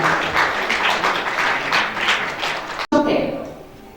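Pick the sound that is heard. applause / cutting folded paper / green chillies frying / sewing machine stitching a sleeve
applause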